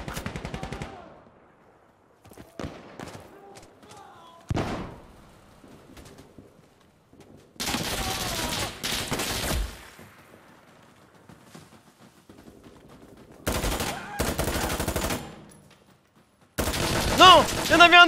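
MP5 submachine gun fire in the tactical shooter Insurgency Sandstorm: several loud bursts of automatic gunfire separated by quieter gaps, with the final burst close and sharp.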